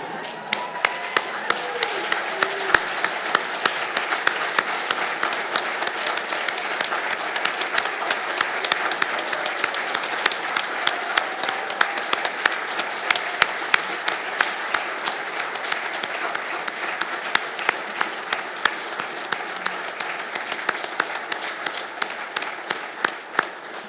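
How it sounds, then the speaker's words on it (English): A live event crowd gives a standing ovation at a business school launch, a long, steady, dense wash of many hands clapping at close range with a few sharper individual claps standing out and no talk over it. "You don't think that would be worth a standing ovation"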